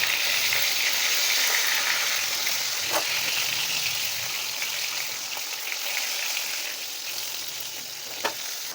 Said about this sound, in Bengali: আমাদের পটলগুলো ভাজা হয়ে গেছে।